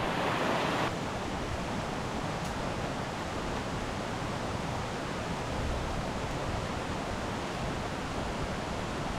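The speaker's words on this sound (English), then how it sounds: "It's actually quite a bit windier down here than it was up the top." Steady, loud broadband wind gusting down a river valley with waterfalls nearby, a continuous roar that fills the whole stretch without pause and with no voices over it.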